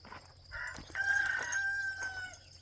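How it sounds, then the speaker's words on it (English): A backyard rooster crows one long drawn-out call at moderate distance in a home garden, rising and holding before trailing off, over a faint low hum with no talking. "our rooster, letting me know that he's doing his job over there"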